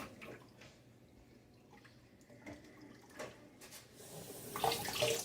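Tap water runs into a cooking pot in a home kitchen, a soft splashing trickle that grows louder and fuller toward the end, close and with no voices.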